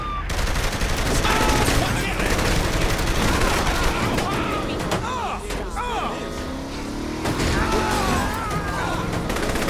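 Rapid bursts of gunfire in the video game Saints Row 3, loud and dense throughout, mixed with engine noise and game effects.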